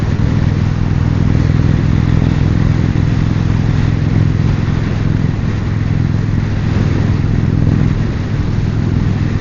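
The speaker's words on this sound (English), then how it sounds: "That 116 Thunderstroke with some tab performance exhaust sounds really sweet." An Indian Springfield Darkhorse motorcycle with a 116 Thunderstroke engine and performance exhaust rumbles loudly and continuously while riding, a deep throbbing exhaust note mixed with wind rush and road noise, close and unbroken throughout.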